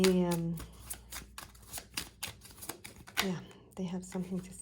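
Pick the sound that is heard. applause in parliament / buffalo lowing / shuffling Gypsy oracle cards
shuffling Gypsy oracle cards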